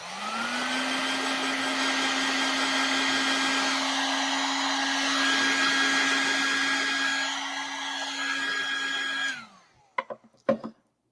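A heat gun or hair dryer blows steadily on glue spread over the edges of a tissue box being customised, a continuous loud whoosh for about nine seconds, then it cuts off and a few faint clicks and handling knocks follow.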